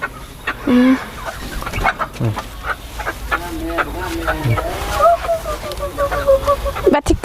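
Chickens cluck and call close by in a yard, repeated short clucks and a longer rising call mixed with people talking nearby.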